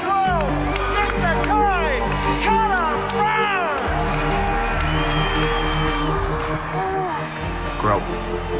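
A large UFC event crowd roars and cheers continuously while an announcer's voice calls out loudly over the noise.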